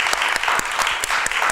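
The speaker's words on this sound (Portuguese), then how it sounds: "Vamos dar uma salva de palmas ao nome do Senhor" A Baptist church congregation applauds during a worship service, giving a round of clapping in praise: a thick, continuous wash of many hands, close and loud, with scattered sharper claps standing out.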